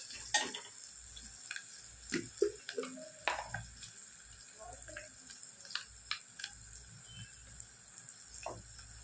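Ginger garlic paste frying in a pan, a soft, quiet sizzle with light scraping and stirring clatter scattered across it.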